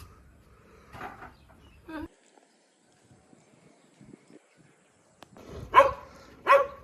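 A dog barks from a rooftop: after several seconds of faint, scattered background sounds, two sharp, fairly close barks ring out about a second apart.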